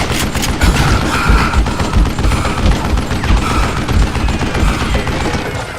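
Dense, continuous gunfire from Call of Juarez: Gunslinger, rapid overlapping shots and booms filling the whole stretch at steady loudness with no pauses.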